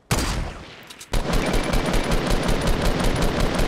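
Gunfire in Fortnite: one sharp shot, a brief pause, then a loud, dense, rapid stream of shots that continues without a break to the end.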